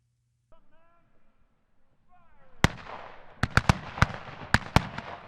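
A rapid, irregular burst of sharp cracks like gunshots follows a stretch of faint, high, wavering cries in an otherwise quiet scene.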